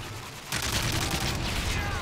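A steady, dense burst of SMG fire in a competitive shooter match kicks in loudly after a brief lull and continues without pause, filling the moment with rapid rattling shots.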